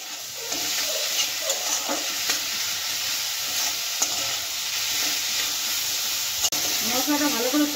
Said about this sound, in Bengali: মশলাটা ভালো করে কষিয়ে নিয়েছি।